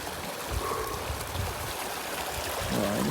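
Mountain stream water rushes down along a high trail, a steady broad wash of flowing water with splashing texture, loud and close throughout, with faint bits of other sound beneath.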